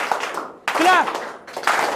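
Participants in a public speaking and team-building activity clap together on cue in two short bursts, with a voice talking over and between them.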